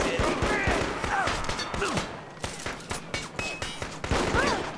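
Rapid volleys of gunfire in the video game Bleedout, repeated sharp shots in bursts and overlapping bangs, loud and close throughout with some busy game background noise.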